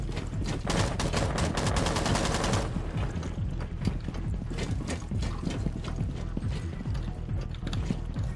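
Rapid automatic gunfire in Rainbow Six Siege rattles out in a dense burst for the first few seconds, then gives way to scattered clicking shots, footsteps and mechanical rattles at a lower, steady level.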